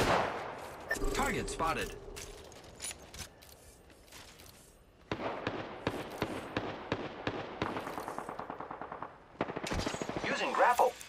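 Rapid automatic gunfire rings out during an Apex Legends match played as Vantage, in several dense bursts with short pauses between them. A voice briefly speaks over the shooting.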